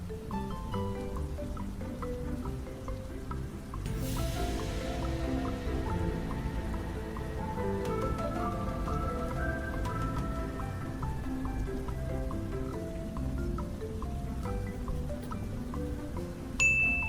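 Heavy rain falls steadily outdoors beside a house porch, a dense continuous patter with scattered nearby drips and pings on hard surfaces for the whole stretch.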